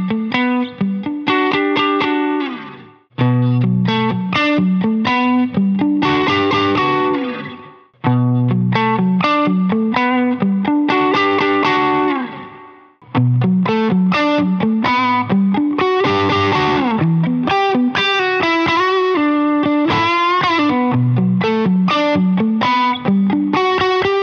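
An electric guitar runs through two stacked overdrive pedals, one a Warm Audio Centavo, giving a mid-focused, evenly balanced tone. Loud, close phrases of strummed chords and picked notes come in bursts with brief pauses between, with no talking.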